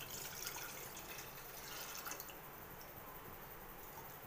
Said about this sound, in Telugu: ఇలా వాటర్ని వేసి